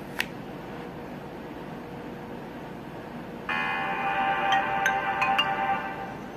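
A Sony Ericsson Spiro phone, about twelve years old, powers on with a faint click followed by a bright chiming startup melody that sustains for a few seconds over quiet room hiss, several higher bell-like notes ringing through it.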